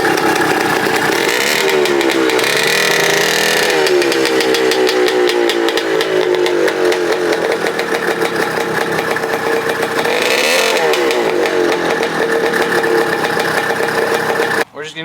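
A neglected 1983 Honda Odyssey FL250 go-kart engine runs loud and steady close by, its buzzing two-stroke note rising and falling with throttle blips before cutting off abruptly at the end.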